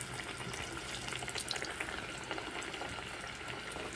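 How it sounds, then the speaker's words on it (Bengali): Green banana pieces frying in hot oil, a steady dense sizzle with soft bubbling crackle running continuously and close up, no voices. "তো একটা একটা করে কলা আবার আমি তেলের মধ্যে ছেড়ে দিচ্ছি।"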